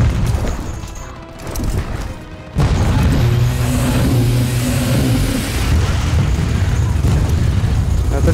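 Rocket explosions in the Gears of War 4 campaign: a sudden heavy blast bursts in partway through and a loud, rumbling roar with droning engine-like tones carries on to the end, over lighter game noise before it.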